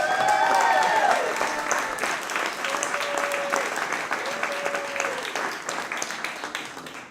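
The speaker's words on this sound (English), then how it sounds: "One more round of applause." Sustained round of applause from the audience at a town council meeting in Altadena, loud and dense at the start and gradually thinning over several seconds, with no talking.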